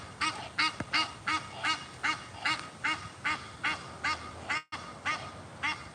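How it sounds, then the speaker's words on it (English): A flock of geese or ducks gives a steady run of honks and quacks, a dozen or more calls in quick rhythm, loud and near, with a brief gap of silence partway through and no speech. "Yeah, they might be geese."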